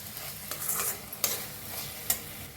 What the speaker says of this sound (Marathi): मिक्स करून छान असं भाजून घेऊया.